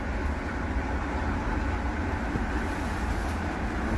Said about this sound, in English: Marc train here.